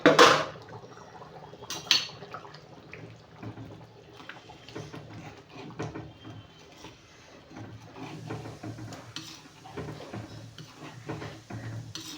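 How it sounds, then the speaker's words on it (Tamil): Kuzhambu curry boils in a pot with a steady low bubbling and a few light metallic clinks early on, fairly quiet throughout with no talking. "பார்க்கலாம் குழம்பு சூப்பராக கொதிச்சிருச்சு."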